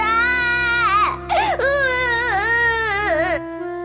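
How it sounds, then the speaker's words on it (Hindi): A baby wails from inside a freshly cut large pumpkin, loud and close, with a long sustained cry that rises and falls in pitch before breaking off abruptly near the end. "उसमें से एक बच्चे के रोने की आवाज आने लगी"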